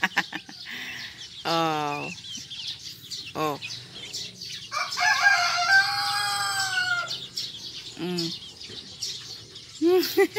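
Chickens cluck and call close by, with a rooster-like crow in the middle and scattered squawks around it.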